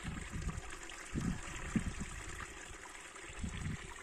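Murky sewage water flows out of pipes from a care home into a flooded meadow, a faint, continuous trickle and gurgle with soft splashing pulses.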